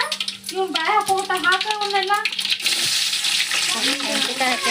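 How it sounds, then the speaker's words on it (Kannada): Black mustard seeds hitting hot oil while making churumuri with gram flour, crackling into a dense, bright sputter that builds after a voice fades, close and loud. "ಈಗ ಎಣ್ಣೆ ಕಾದತ್ ನೋಡ್ರಿ ಸಾಸಿವೆ ಹಾಕತ್ತೀನಿ"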